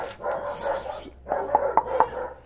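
A dog barks in a yard beside a shared passage where neighbours walk past, a few sharp yaps and bark bursts in two clusters separated by a short pause, fairly close and moderately loud.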